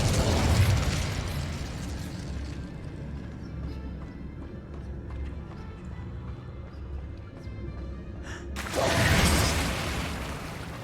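An Incendio fire spell bursts out in Hogwarts Legacy, a loud whooshing blast at the start and another near the end, with a busy rumbling game soundscape between them.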